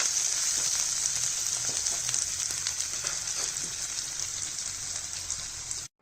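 Onions, mustard seeds, chana dal, urad dal, green chilies and curry leaves fry in hot oil for beetroot poriyal, a steady close sizzle that cuts off abruptly at the end.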